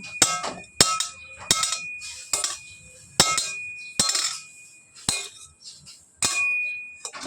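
A child bangs a toy cooking pot, sharp metallic clanks and clinks struck about once a second in an uneven rhythm, each ringing briefly, close and fairly loud with no talk.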